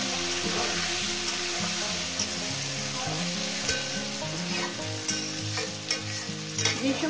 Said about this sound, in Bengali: এটাকে আমি ভাজবো।